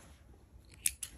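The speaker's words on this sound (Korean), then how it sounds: "잘라주세요." Yarn is snipped with scissors while crocheting a Moomin dish scrubber, two quick, crisp close-up cuts near the end of a quiet moment.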